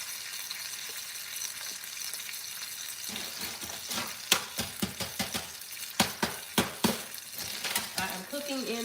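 Beef pot roast browning in a foil pan, sizzling steadily, with sharper crackles and pops clustering in the second half as the meat is moved or turned.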